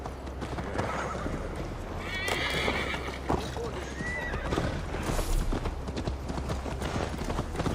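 A horse in Assassin's Creed Valhalla whinnies loudly while its hooves clip-clop steadily beneath, mixed with game music and ambience, and voices speak over it.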